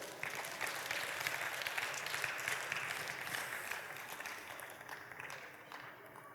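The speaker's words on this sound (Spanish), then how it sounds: "Fuerte aplauso." Loud, sustained applause from a church congregation fills the space steadily for several seconds, a dense wash of many hands that eases slightly toward the end.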